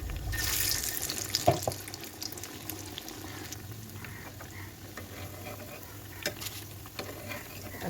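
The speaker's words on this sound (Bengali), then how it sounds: "এখন এই তো কাবাব ভেজে নিচ্ছি।" Kebabs frying in a pan, a soft continuous sizzle with occasional light clicks and stirring sounds, fairly faint and close, no talk.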